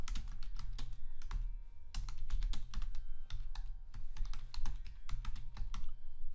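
Fingers type rapidly on a computer keyboard, a close, steady stream of clicking keystrokes with brief pauses, and no talking over it.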